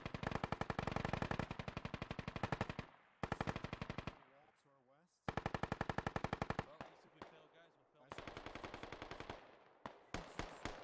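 Video game gunfire crackles in long rapid automatic bursts separated by short gaps, loud and close, with the shots of a firefight near a ditch echoing between volleys.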